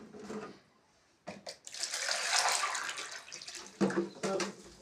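Salt water poured into a glass jar for a school science experiment, a splashing, gurgling pour lasting a couple of seconds amid brief bursts of nearby talk.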